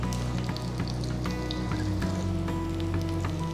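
Fish fries in coconut or gingelly oil on a tawa, a steady close sizzle with crackling pops throughout and no voices.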